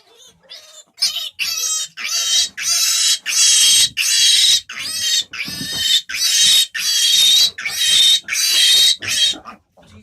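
A farm piglet being given an iron injection squeals in about a dozen loud, shrill bursts, each cut by short pauses, close by and otherwise alone.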